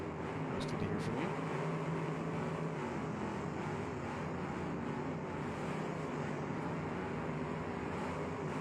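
Racing cars in heavy traffic in a virtual stock car race, their engines blending into a steady, dense roar that stays loud and continuous throughout.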